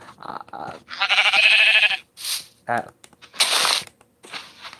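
Sheep bleating in a single-player hardcore survival video game, a few wavering bleats mixed with clicking game sounds, fairly close and loud.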